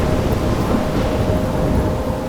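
Thunderstorm in Life is Strange Remastered: a heavy, unbroken roar of rain and rumbling thunder, loud and dense throughout with no voices.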